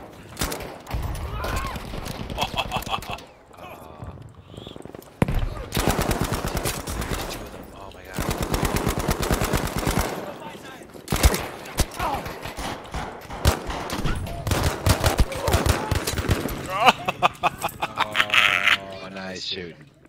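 Machine gun fire in Battlefield V, rapid bursts of automatic shots repeating close and loud through a chaotic multiplayer firefight, with players talking over the gunfire throughout.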